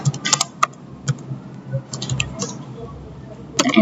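Typing on a computer keyboard while configuring a MikroTik router: a few quick clustered keystrokes, then sparse single clicks, with a final burst of keys near the end, close and fairly loud, with low talk underneath.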